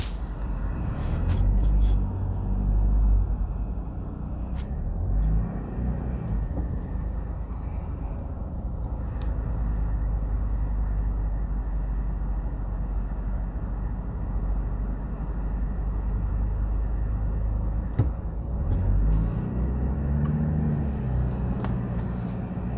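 Cars passing on a one-way street by a shopping plaza in Jamaica, a steady low traffic rumble with engines swelling nearer at the start and again near the end.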